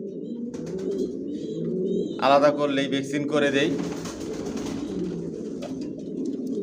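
Johnson racer pigeons in a loft give a constant low cooing, close by, while someone speaks over them and a brief bright chirping burst rises in the middle.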